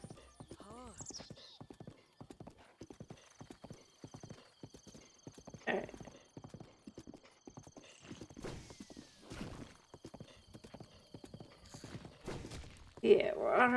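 Horse hooves clip-clopping steadily along a road in Zelda: Breath of the Wild, an even walking rhythm running throughout, with a brief neigh near the start and someone talking quietly over it.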